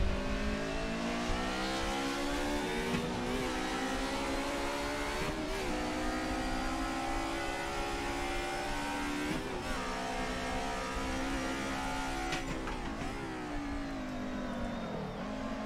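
Steady, loud engine drone of a car in the Assetto Corsa racing game, its pitch climbing through gears with brief dips at each shift, running continuously without talk.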